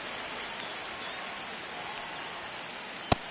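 Steady rain falls over an outdoor day baseball game, a soft, even hiss holding at a fairly low level throughout, broken near the end by one brief sharp crack.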